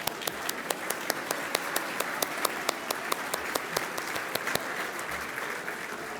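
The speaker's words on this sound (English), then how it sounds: "Let's give them a round of applause." An audience gives a round of applause at a conference program, dense clapping from a crowd with a few sharp, regular louder claps standing out up close, steady to the end.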